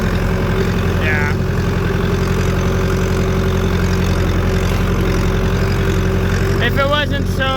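A farm tractor hitched to a spreader idles steadily up close, a loud constant low drone with a rough, even pulse, while a few faint higher squeaks come through near the end.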